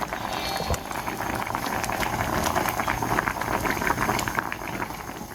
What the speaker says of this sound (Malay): Biarkan dia menggelegak dahulu